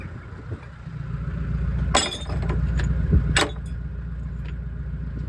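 Broken glass clinks and crunches inside the cab of a Renault 4x4 timber lorry, with two sharp bright jangles over a low idling engine rumble.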